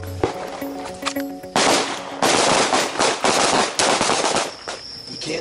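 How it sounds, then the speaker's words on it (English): Handgun shots at a combatives training range, a few sharp loud broadband bursts in quick succession with brief gaps, fairly close. "Second call, three shots"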